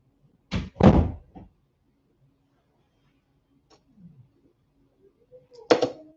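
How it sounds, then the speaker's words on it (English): A bedroom door is pushed shut with two quick, sharp thuds close by, followed by a quiet pause with faint rustles and then another single loud knock or bang near the end. "Can you close my door, please?"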